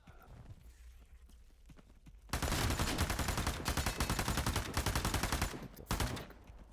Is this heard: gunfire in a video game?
yes